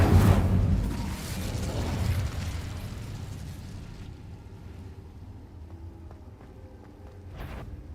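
An Incendio fire spell bursts in Hogwarts Legacy with a loud whooshing blast up front that trails off into a fading rumble, plus a smaller pop near the end.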